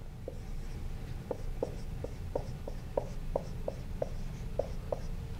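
Chalk or marker writing on a board during a math lecture: a dozen short, regular scratchy strokes, close and clear, over a low room hum with no talk.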